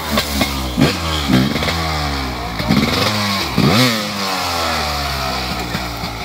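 Motorcycle engine revving hard and shifting through gears at the Moneasa uphill race, a loud, close, continuous roar that rises and falls in repeated climbing sweeps with no talk over it.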